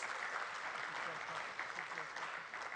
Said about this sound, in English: I think they deserve a huge round of applause for sharing with us the new insights